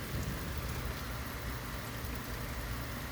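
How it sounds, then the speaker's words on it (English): Steady, dense rain pours down in California, a loud continuous hiss of drops striking surfaces with no speech over it. "if this rain stops, I'd be fine"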